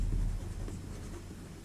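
Pen scratching across a page during a physics lesson on Newton's laws, a steady close stroke over a low room rumble, with no talk.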